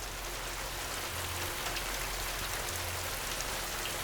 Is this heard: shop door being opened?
no